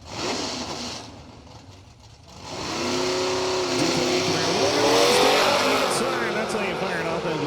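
A drag race car, a Z28 Camaro at a street nationals event, fires off the starting line with a rising roar of revving engine and tire squeal, heard under a track announcer's excited commentary.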